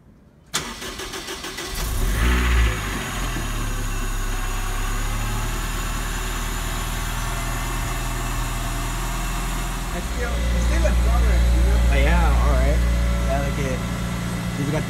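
A Honda Integra Type R DC5 engine cranks and catches after a short silence, then settles into a steady idle with a brief rise in revs later, while people talk nearby.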